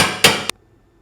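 Two sharp metallic hammer strikes on a Champion generator's carburetor part during a natural gas conversion, the second following about a quarter second after the first, close and loud, then quiet.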